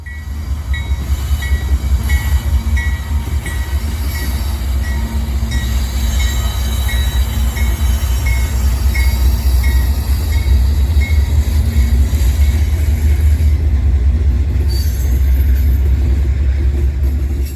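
CSX freight train M415 rolls past at Point of Rocks, Maryland, a loud, steady rumble of rail cars running the full length with high, repeated wheel squeals riding over the noise.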